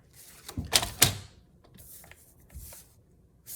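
A 5x5 inch paper square being cut down to 4 1/4 inches, heard as a few close, crisp snips and thunks, then quieter scraping and handling sounds in a quiet room.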